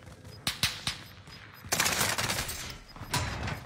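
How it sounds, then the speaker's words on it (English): Video game gunfire rings out as a few sharp single shots followed by dense automatic bursts, loud and close, with a continuous rattle of fire in the second half. "I'm taking fire here."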